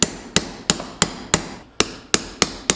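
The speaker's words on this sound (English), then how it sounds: "All right, then we're going to pound this in." Hammer strikes driving a bearing race into a Dana 20 transfer case during an early Ford Bronco rebuild, with nine sharp metallic blows at a steady rhythm, close and loud, each ringing briefly.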